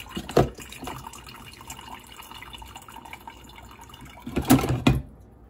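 Water trickles and gurgles softly and steadily through a Mr. Coffee drip coffee maker, with a couple of louder bubbling spurts near the start and end.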